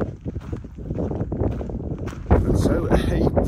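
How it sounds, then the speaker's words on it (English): Strong outdoor wind on a blustery morning buffets the microphone with a steady, loud roar and low rumble that swells louder toward the end. "It's a very windy day."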